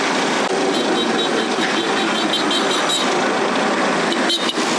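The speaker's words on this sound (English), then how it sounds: "I am now on the back of a boda boda motorcycle heading back towards Jinja" A boda boda motorcycle rides toward Jinja, its engine droning loud and steady with close wind rush from the back seat, the noise constant throughout.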